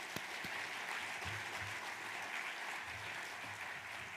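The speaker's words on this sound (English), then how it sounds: "Let's give them a round of applause also." An audience at an annual conservation districts meeting applauds steadily, a dense even patter of many hands sustained throughout, heard from a little distance with no one speaking.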